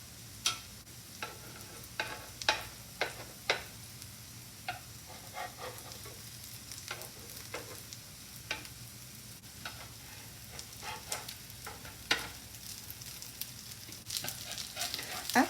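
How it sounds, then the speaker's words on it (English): Rice cakes frying in a pan, patted down and cooked on one side, with a continuous light sizzle and crackle broken by frequent short pops and scraping sounds throughout. "just gently pat that down a little bit and fry that for 4 to 5 minutes on"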